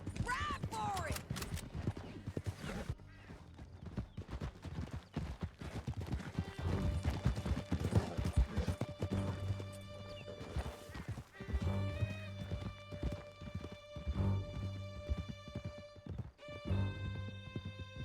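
Horses gallop hard through a canyon in Red Dead Redemption 2, steady rapid hoofbeats with neighs and whinnies, riders' voices and a musical score underneath throughout.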